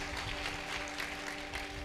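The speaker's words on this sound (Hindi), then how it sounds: "जोर से ताली बजाएं एक दूसरे के लिए" Congregation clapping for one another at a Hindi-language church gathering, a faint, steady wash of applause under a background hum.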